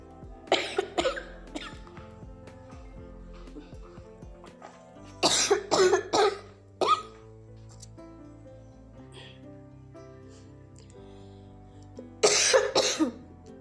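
Several bursts of harsh, raspy coughing nearby, separated by quiet stretches, with a final fit of coughs near the end.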